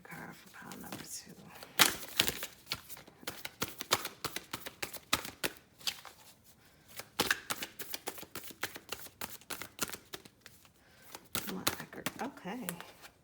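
Tarot cards shuffled by hand in a run of crisp riffling and slapping bursts that keep coming back across the clip, close and fairly loud, with a person talking in between.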